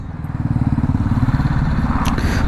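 A motorcycle idles and putters with a steady low engine rhythm, close by, the bike just restarted after a long time unused and sputtering, with a brief clatter near the end.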